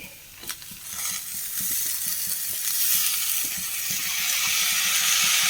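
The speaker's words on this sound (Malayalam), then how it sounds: "നമുക്ക് കഴുകി വൃത്തിയാക്കി വെച്ചിരിക്കുന്ന ക്യാബേജ് ഇട്ട് കൊടുക്കാം" Washed violet cabbage tipped into a hot pan and stirred, giving a steady close sizzle and frying hiss that builds after a brief clatter, with scattered soft scraping stir strokes throughout and no talking.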